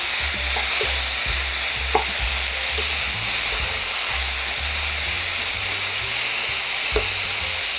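Potatoes stir-fry in a pan over medium heat for a Korean potato side dish, a loud, continuous close-up sizzle broken by repeated scraping strokes of a spatula, with no voices.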